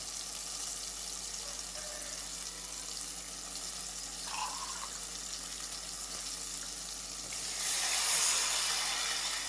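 Water poured into a hot pan of upma seasoning, a soft steady hiss that surges into a louder bubbling rush toward the end.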